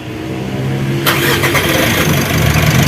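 A Mitsubishi L300 Euro4 engine cranks and catches about a second in, then settles into a steady, loud idle close by with a brief burst of revs, no talking.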